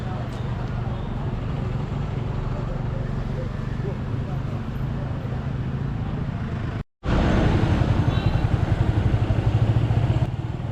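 Bike taxis passing along a busy street in Aizawl, a steady roar of motorcycle engines and road noise, loud and close, cut by one brief silence before growing slightly louder.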